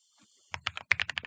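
Keys clatter on a computer keyboard in a quick run of about nine sharp clicks packed into under a second. The typing is close and there is no speech.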